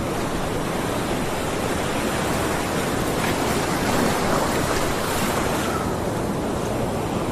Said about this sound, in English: Do you hear that sound of the ocean?